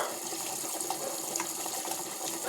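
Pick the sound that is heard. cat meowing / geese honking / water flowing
water flowing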